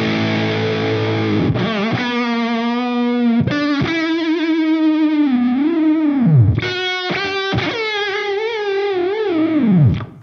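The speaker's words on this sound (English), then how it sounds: "See, it's like sort of an auto whammy." Guitar through an envelope-controlled auto whammy pitch-bend pedal, distorted notes that swoop and dive in pitch after each attack, several phrases with pitch sliding down and back, played alone and loud.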